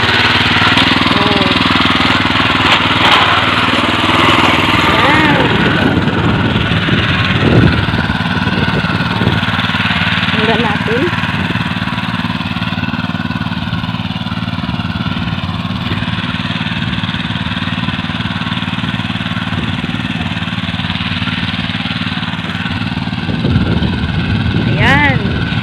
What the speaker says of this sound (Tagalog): yung bagong makina natin ngayon na ginagamit sa panggambol ng sibuyas